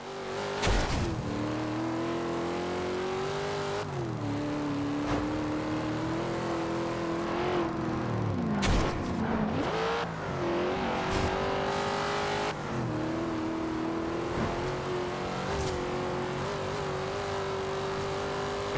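A car engine in the Forza Horizon 2 racing game revs and races continuously, its loud steady whine rising and falling with gear changes and brief dips, with no talk over it.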